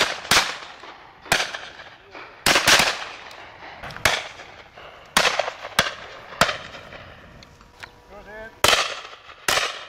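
Shotgun blasts at a pheasant and partridge shoot, a series of sharp, loud reports spaced irregularly, some near and some more distant, with brief outdoor voices between them.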